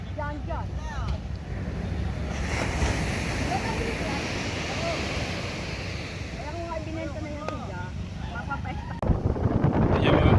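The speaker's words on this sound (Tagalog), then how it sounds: "Malaki pa rin ang alon niya" Rough ocean surf and wind noise buffeting the microphone, with scattered voices talking over the constant rush of water.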